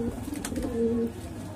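A pair of white Punjabi breed pigeons cooing close by, with soft low murmuring coos running through a short stretch and a steadier coo near the middle.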